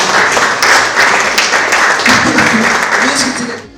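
Audience applause at a leadership breakfast session: several seconds of dense, loud clapping that fades out near the end, with voices mixed in.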